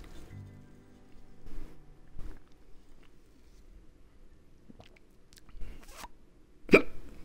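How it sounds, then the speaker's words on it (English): A single sharp hiccup rises near the end of a quiet stretch, loud and close against faint background sounds. "Sounds like you got hiccups."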